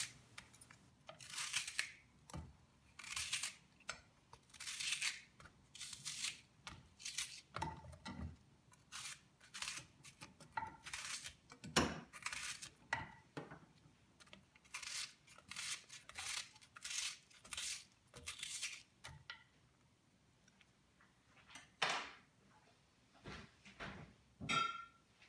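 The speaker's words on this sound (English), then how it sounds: "now I'll be cutting my onion" A knife slices an onion into thin rings without a chopping board, each cut a crisp, close, short crunch repeating in an irregular series with brief pauses, and no talking.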